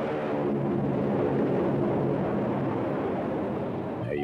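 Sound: airplane

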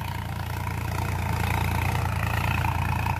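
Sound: Sonalika DI-5 52 HP tractor engine running in second gear

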